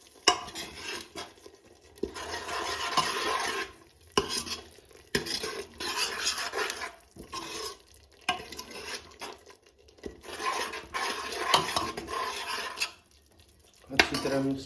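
High-protein curry stirred in a metal pot with a spoon, repeated bursts of scraping and clinking separated by short pauses, close and fairly loud.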